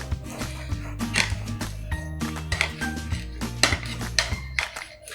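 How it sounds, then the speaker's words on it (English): A bread knife saws across a tray of King's Hawaiian rolls on a cookie sheet, giving steady scraping strokes with small clinks of the blade against the metal pan, close up, with no talk. "take my bread knife and just cut all the way across"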